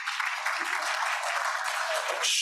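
Brief round of applause from members at a Rotary club meeting, steady moderate clapping from a small room that cuts off abruptly at the end.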